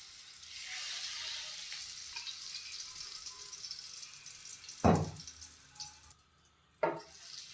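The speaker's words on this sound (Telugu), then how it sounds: "కడాయి వేడైన తర్వాత కొంచెం బటర్ వేసుకుందాం." Butter and oil sizzling in a hot kadai, a soft continuous hiss throughout, broken by two brief louder clatters near the end, close by with no talk.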